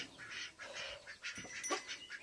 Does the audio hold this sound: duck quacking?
yes